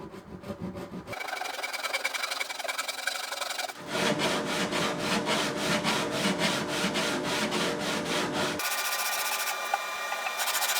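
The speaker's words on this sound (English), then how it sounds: "we are going to be scraping and sanding them down level, first with the back and the soundboard, and then around the sides" Rhythmic rasping strokes of scraping and sanding acoustic guitar bindings level with the back, soundboard and sides, in three close sections of steady back-and-forth rubbing, with no talk over it.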